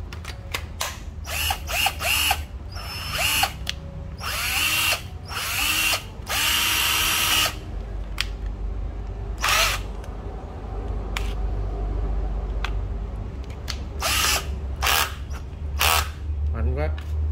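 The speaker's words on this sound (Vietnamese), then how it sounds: "Đây cây khoan Hitachi nha các bạn." A Hitachi 12V cordless drill whirs in repeated short bursts, close up, with bright high motor whine between pauses, while someone talks over and between the runs.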